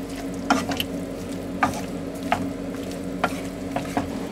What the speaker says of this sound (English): I added mushrooms, stirred them in, chopped tomatoes, popped them in. Stir them in and add the sauce.